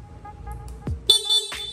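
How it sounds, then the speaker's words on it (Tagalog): Stock horn on a Honda Click V3 motorcycle, a short bright honk that follows a faint relay click and some handling noise, close and fairly loud. "ito po yan, stock horn"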